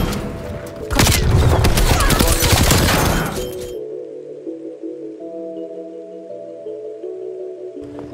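A burst of rapid automatic gunfire from a fully automatic weapon in Call of Duty: Black Ops Cold War, loud and dense for a few seconds, then giving way to a quieter sustained game music tone.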